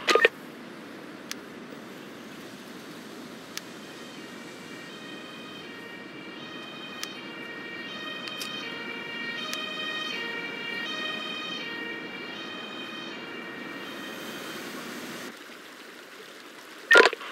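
An ambulance siren wails in the video game Emergency 5, a steady repeating two-tone electronic pattern at moderate loudness over faint background hum, with no talk.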